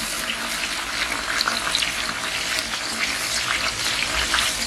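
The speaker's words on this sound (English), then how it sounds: "having put that now, I'll also be adding the fish inside the pot." Fish frying in bleached palm oil in a pot while cooking okra soup, a steady dense sizzle and crackle running throughout without pause, close and fairly loud, with no talking.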